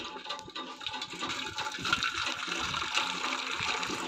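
Water splashes and gushes continuously while a bucket is washed, a close, fairly quiet pouring sound with uneven splashing throughout and no talk.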